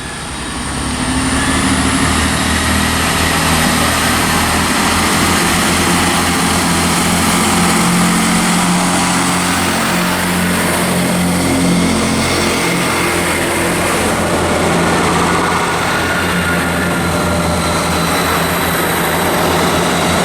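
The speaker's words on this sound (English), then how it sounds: "And departing as well is 158854 to Liverpool Lime Street." A Class 158 diesel multiple unit departs Chesterfield station for Liverpool Lime Street, giving a loud, steady engine drone with a faint high whine that holds throughout, with no talking.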